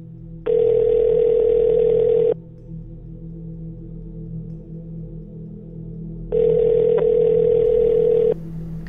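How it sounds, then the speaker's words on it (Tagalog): Two long telephone ringback tones over a faint low hum, each about two seconds long and separated by a few seconds of quiet, heard while a call to someone is connecting. "Kinuha ni Sandra ang kanyang telepono at may tinawagan"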